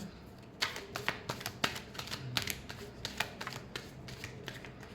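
Tarot cards being shuffled by hand, a quick run of crisp riffling flutters and taps repeating over several seconds, close and fairly quiet, with no talking.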